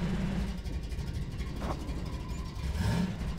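Car engine driving in the video game Half-Life 2, a steady mid-pitched hum with a rise in revving near the end, alone with no talk.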